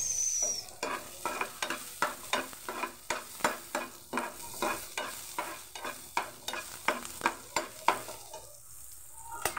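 Fish and onion cooking in a pan, soft sizzling under a steady rhythm of close scraping stirs, about two per second, ending in a quieter hiss.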